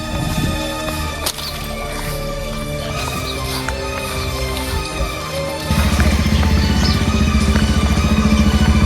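A motorcycle engine starts up partway through and settles into a loud, steady, throbbing rumble close by, after a stretch of scattered knocks and background noise.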